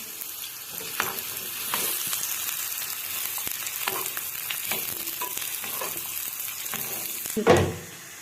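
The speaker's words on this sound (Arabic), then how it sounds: "هلقيت بدنا نقليه بزيت زيتون ونحرك." Kishk frying in olive oil in a pan while being stirred, a quiet, even sizzle dotted with small clicks and scrapes from the spoon, with one louder clatter just before the end.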